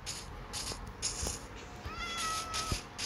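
A cat meows a few times over steady background music and game ambience, the meows moderately clear and slightly drawn out.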